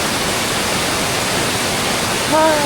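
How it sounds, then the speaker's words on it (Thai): Tat Sadao waterfall in Sai Yok, Kanchanaburi, Thailand, rushing as a loud, steady broadband roar throughout, with a faint bird-like whistle appearing near the end. "พามาชมน้ำตกตาสะเดา จังหวัดกาญจนบุรีครับ"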